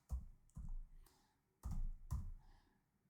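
A few separate keystrokes on a computer keyboard as a telnet command is typed in, spaced irregularly, quiet and close, with no talking.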